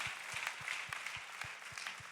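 A church congregation claps in a steady, even rhythm, about four soft beats a second, faint and somewhat distant, with no talking.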